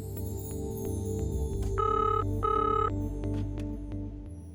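A telephone rings twice in short bursts of trilling electronic tone over a low background hum, fairly close.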